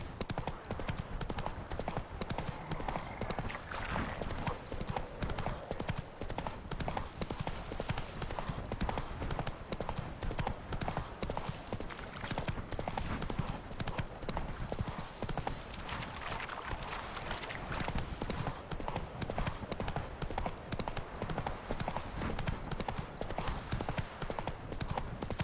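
Roach, a horse in The Witcher 3, gallops with a steady, continuous clip-clop of hooves across the whole stretch, loud and close, over constant ambient game noise.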